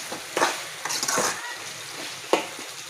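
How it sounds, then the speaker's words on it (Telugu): Drumstick curry frying in a pan with a moderate sizzle, broken by several brief bursts of stirring and scraping, all close by with no talking. "ఇది బాగా కొద్దిసేపు ఫ్రై కావాలండి."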